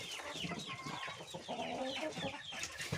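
Village hens, a crossbreed of Elba and modified layer chickens, cluck steadily at close range in a home-scale backyard coop, with overlapping soft clucks and calls throughout and no talking.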